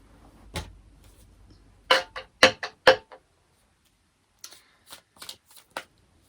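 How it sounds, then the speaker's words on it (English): Tarot cards being shuffled and tossed down on a surface, with a quick riffle at the start, a cluster of sharp slapping card sounds in the middle, and softer scattered flicks toward the end, close and clear. "just threw a bunch of cards down"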